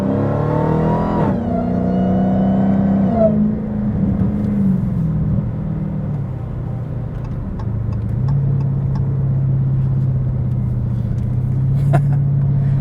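A Dodge Hellcat Challenger fitted with a JLT intake revs hard and accelerates through gear changes, a loud close engine note climbing and dropping between shifts before settling into a steady drone.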